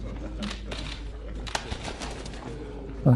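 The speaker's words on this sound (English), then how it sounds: "He can't even control the bird." A pigeon coos softly a few times against steady low background noise, with a short louder sound near the end.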